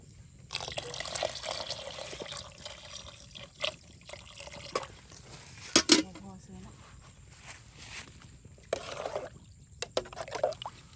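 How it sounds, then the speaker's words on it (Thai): Plain water poured into fragrant curry paste for a tilapia-based khanom chin noodle curry, splashing and trickling in uneven bursts close by, with occasional brighter drips and clinks. "เอาน้ำใส่ เอาน้ำใส่เลยพี่น้องน้ำเปล่า"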